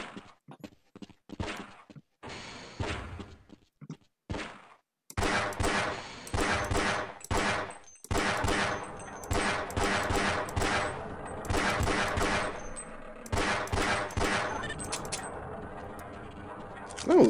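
Gunfire at a shooting range in Half-Life: Blue Shift, sharp single shots at first, then rapid repeated bursts of fire in quick rhythmic volleys, loud and close.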